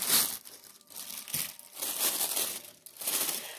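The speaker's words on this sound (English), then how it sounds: "it comes in this little black wrapping paper" Thin black wrapping paper crinkles and rustles as it is unwrapped from a Zara crystal ballet shoe box, close and continuous in uneven bursts with no talk.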